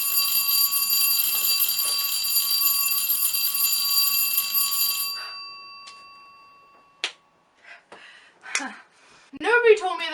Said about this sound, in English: the first time I heard an alarm bell